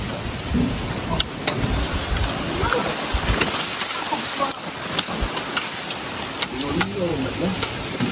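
Steady wind gusts buffet a microphone outdoors, a continuous broadband rush with occasional louder thumps and faint voices in the background.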